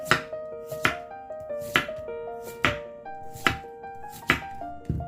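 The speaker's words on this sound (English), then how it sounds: "Slice this up thinly." A knife slices vegetables thinly for kimchi in crisp, regular strokes against a cutting board, about six or seven sharp cuts in five seconds, close and clear over soft background music.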